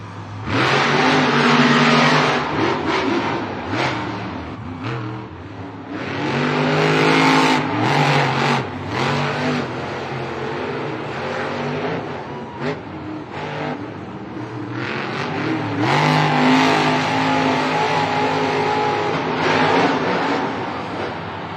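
Monster trucks race side by side across a dirt stadium track at a Saturday night Monster Jam event in Anaheim, engines roaring and revving loudly and continuously with surging acceleration over crowd noise.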